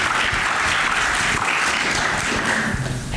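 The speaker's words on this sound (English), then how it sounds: "please give another round of applause to these amazing filmmakers and scientists" A loud, sustained round of applause from a science and film showcase audience honoring filmmakers and scientists, with dense clapping filling the whole stretch without letting up.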